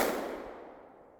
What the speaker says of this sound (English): it's firing right where I put it at.